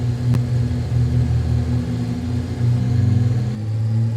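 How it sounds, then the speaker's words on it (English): A simulated aircraft engine from Flight Simulator X, its throttle sound stuck, drones as a steady, rumbling hum with slight pulsing and small pitch shifts, loud and continuous. "I hate it when the engine throttle sound effect gets stuck."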